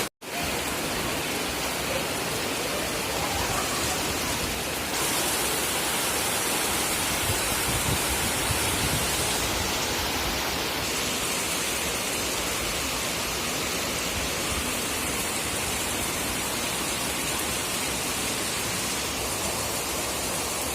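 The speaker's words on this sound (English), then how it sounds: "Since it is raining, I'm waiting here." Steady, dense rain falls in rural India, a continuous hiss filling the whole stretch at even loudness with no voices.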